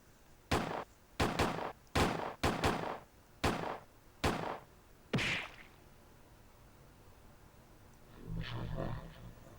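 Seven sharp gunshots ring out at uneven intervals from regular guns fired at a shadow in Persona 3, loud and close, then a brief lull before a low rumbling swell near the end.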